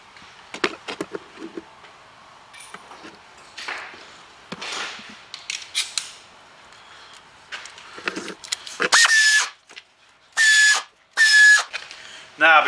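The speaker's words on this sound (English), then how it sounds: "So I need to put these little 8mm bolts in." Small 8mm bolts go into the timing cover of a 2000 Ford Fiesta 1.25 in a garage, heard as scattered metallic clicks, taps and ratchet-like turns with several sharp louder bursts near the end.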